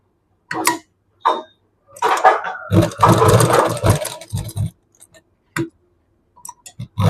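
An electric sewing machine stitches the neckline of a Punjabi dress, running in short bursts with one longer steady run in the middle and quiet pauses between, close and fairly loud.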